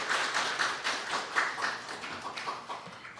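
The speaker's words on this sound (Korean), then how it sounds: "다시 한번 뜨거운 박수 부탁드립니다." Faint applause from a forum audience at a National Assembly debate on building Gyeonggi International Airport, a soft, steady patter of many hands clapping that slowly tapers across a few seconds.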